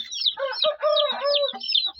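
High, rapid peeping of yellow chicks mixed with soft clucking from a Hint breed hen, close and continuous with brief pauses.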